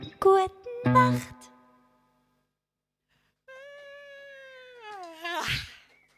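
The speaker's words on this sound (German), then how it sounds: "Und der Schnu, der hat eine Katze." House cat meowing twice in quick succession, then after a quiet pause a longer drawn-out meow, close and clear with no other sounds around it.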